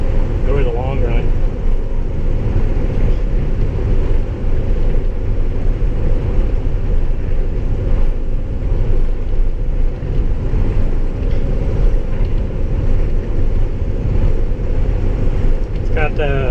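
Steady, loud cabin drone of an International Durastar truck with a Cummins 6.7 diesel cruising down the highway, a constant low engine and road rumble that runs without a break.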